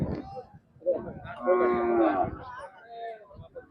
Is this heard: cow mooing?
yes